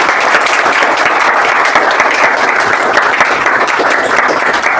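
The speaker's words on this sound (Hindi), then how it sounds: "8 साल की जर्नी के लिए कम से कम एक बार दिल से तालियां तो बजा दो" Steady, dense applause from an audience at a motivational talk, loud and continuous throughout with no break or speech over it.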